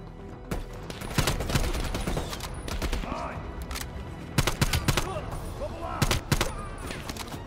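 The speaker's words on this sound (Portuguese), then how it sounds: "Os caras tão atirando por atirar?" Automatic weapons fire in the Call of Duty: Cold War campaign, with repeated rapid bursts and single cracks over a constant battle din, loud and close throughout.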